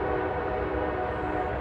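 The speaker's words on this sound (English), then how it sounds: "That's our Amtrak that runs between Raleigh and Charlotte and then up the East Coast to DC." An Amtrak passenger train running between Raleigh and Charlotte passes by, a steady loud rumble of rail noise carrying a sustained horn-like tone throughout.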